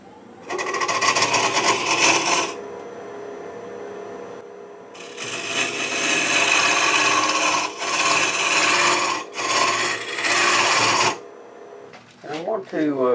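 A woodturning tool hollows the inside of a cherry burl hollow form on a lathe, giving long, steady rasping scrapes in several bursts with short pauses between them.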